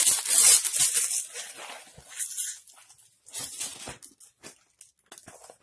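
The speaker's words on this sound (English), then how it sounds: "let's take out this guy and tear that loose" A plastic bag torn open by hand, a loud close rip at the start followed by smaller crinkling tears and rustles that fade into quiet gaps.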